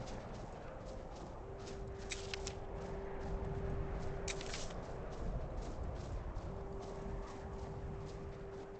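Horse hooves clip-clop at a walking pace in the modded video game The Elder Scrolls V: Skyrim, quiet and regular, with a faint sustained tone running underneath.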